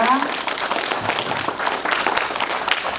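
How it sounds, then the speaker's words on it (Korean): An audience gives loud, sustained applause to welcome a ballerina at a ballet class event, the clapping dense and continuous for the whole stretch. "큰 박수로 맞이해주시기 바랍니다."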